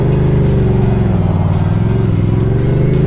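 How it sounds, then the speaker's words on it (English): Road traffic drones steadily on a North Carolina road, a continuous low engine rumble with layered tones as cars roll past, loud and close with no talking. "Wow, there's a lot of cars today."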